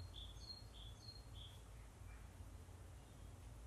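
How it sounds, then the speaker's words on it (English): Faint high chirps and short whistled notes from garden birds in springtime, heard from inside an open-vented bunker in a garden, a few brief calls over a steady low rumble. "being in a garden, there's tons of garden birds"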